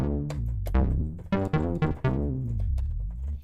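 Bass head preset on the Native Instruments Glaze 2 synth, a few deep tonal notes with rich harmonics and bright attacks, played alone in a short phrase.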